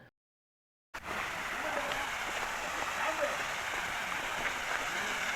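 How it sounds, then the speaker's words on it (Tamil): Waterfall on Kolli Hills falling at normal flow, heard as a continuous hissing rush of water after a brief silent start, fairly soft and distant with no clear talk on top. "இந்த இடத்துல வந்து தண்ணி வந்து அந்தளவுக்கு பெருசாக வரலை. இப்போது நார்மலாக தான் விழுந்துட்டுருக்கு."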